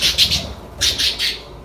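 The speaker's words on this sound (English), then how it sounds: "my bird's screaming and flying around" A pet bird gives shrill, piercing calls in two clustered bursts of about three each, fairly close and loud, with a short pause between the groups and no talking.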